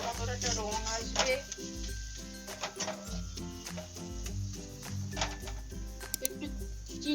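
Posto katla fish stir-fried in a pan: soft sizzling and scraping stir strokes sound intermittently beneath a tonal musical backing.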